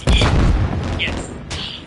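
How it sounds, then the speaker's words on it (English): A stun grenade goes off in Call of Duty: Modern Warfare 3: a loud, booming blast rolls out close by, followed by a second sharp burst near the end amid game noise. "Stun grenade out!"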